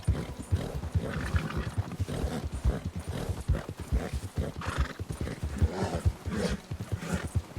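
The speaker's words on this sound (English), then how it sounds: "My horse is running pretty well, but not well enough." A horse gallops hard through a winter endurance race in Red Dead Redemption 2, the hoofbeats a steady, rapid drumming that runs close and loud throughout, with occasional snorts and breathy whinnies over the pounding.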